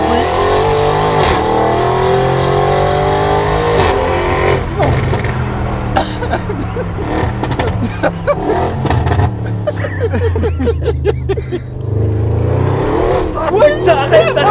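A powerful car engine in dynamic mode rumbles and revs loudly in repeated surges, with people talking excitedly over it throughout.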